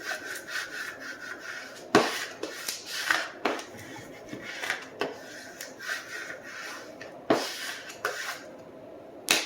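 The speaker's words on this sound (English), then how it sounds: "take my squeegee, and obviously squeegee this down really good" Squeegee pressed and dragged over application tape laid on vinyl, giving repeated rubbing, scraping strokes with sharp starts, close and fairly quiet, with irregular pauses between passes.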